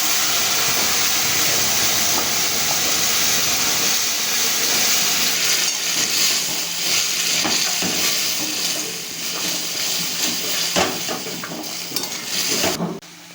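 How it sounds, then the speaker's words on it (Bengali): Masoor lentil dal tipped into hot oil tempering with fried chopped onion, giving a steady loud sizzle and steam hiss, with metal pot and spoon clatter from stirring throughout. "এবার আমি ডালটাকে ফোড়নের মধ্যে দিয়ে দেবো।"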